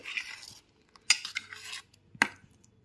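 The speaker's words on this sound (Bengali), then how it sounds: "সব কিছু দিয়ে দেওয়ার পর খুব ভালো মতো একটুখানি মিশিয়ে নিচ্ছি" Paneer is stirred together with spices, sugar and raw mustard oil, giving a few light clinks and scrapes of a utensil against a bowl with soft rustling between them and no talking.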